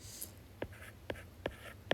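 Pen scratching quick notes on paper: several short, crisp strokes in a quiet room, evenly spaced and close up.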